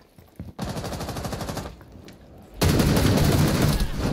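Rapid gunfire in Rainbow Six Siege: sustained automatic bursts that stop briefly, resume more quietly, then return much louder and denser at the close, with no voices heard.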